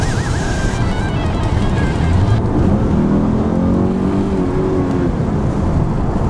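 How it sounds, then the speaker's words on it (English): A 2018 VW Atlas S accelerates hard with the throttle pressed down, heard from inside the cabin with a window slightly open; the engine note climbs steadily in pitch and stays loud over a constant road rumble. "acceleration is pretty good when you mash it down like that"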